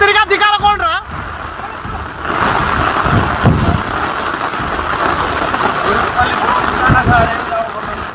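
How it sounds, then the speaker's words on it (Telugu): Heavy rain pouring down during flooding in Telangana, a dense continuous roar of falling water at close range, with a voice briefly heard at the start before the downpour dominates. "ఓ పక్క జోరుగా వాన పడుతోంది"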